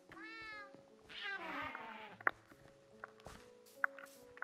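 Cat meows in a Minecraft Cubecraft Minerware match, two drawn-out calls near the start, followed by soft scattered game clicks and footsteps, with no talk.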